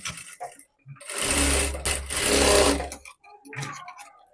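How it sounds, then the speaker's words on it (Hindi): Sewing machine stitching fabric for a ruffle blouse sleeve, a loud steady motor whir in one long run of about two seconds, with shorter quieter bursts before and after. "अब यहाँ पे मैं सिलाई लगा रही हूँ।"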